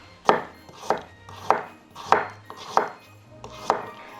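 A knife chops chives on a cutting board in six evenly spaced, crisp thuds, close and clear with quiet pauses between strokes.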